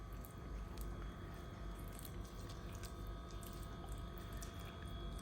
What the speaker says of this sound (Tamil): இந்த மாதிரி வந்து நம்ம மீனுக்கு மசாலாவை தடவி கொடுப்போம்.